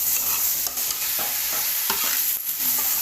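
Mixed vegetables and chicken frying for pilau in a pot, a steady close sizzle with repeated stirring scrapes throughout, no talking.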